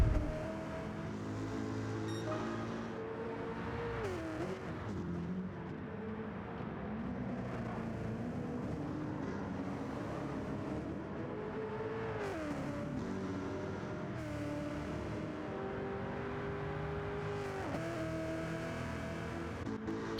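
Race cars in a GTO Champions series TA2 sim race at Mount Panorama roar past one after another, engines rising and falling in pitch with gear shifts as they sweep by in a continuous, moderately loud stream.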